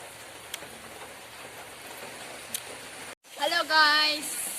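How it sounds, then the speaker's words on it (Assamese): Light rain falls steadily and softly outdoors, a faint even patter with a few sharper drips, before a brief voiced sound rises near the end. "বৰষুণ দি আছে অলপ অলপকৈ"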